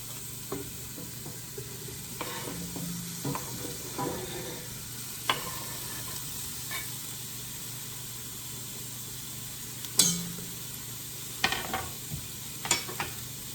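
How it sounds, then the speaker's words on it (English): Sausages sizzling in a hot pan while being stirred, a constant close hiss of frying broken by intermittent scraping and knocking of a utensil, with no voices. "And now I'm going to add the sausages."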